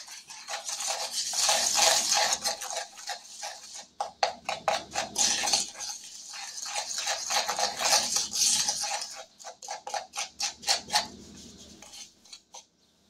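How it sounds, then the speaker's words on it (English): A utensil stirs bouillon powder into a mixture for Spanish rice. Rapid rhythmic scraping and clinking against the bowl comes in bursts, close and fairly loud, with brief pauses between strokes. "two tablespoons of bouillon powder. Mix this up."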